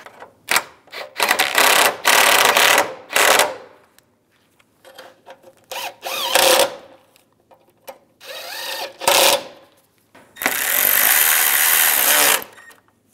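Radiator bolts on a 1999-2005 Volkswagen Jetta are tightened in a string of short, sharp ratcheting bursts, close and loud, with quiet gaps between them and a longer final run.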